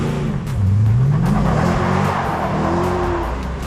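A small Ford Anglia car engine revs up and settles, its pitch rising and falling in a couple of throaty bursts close by.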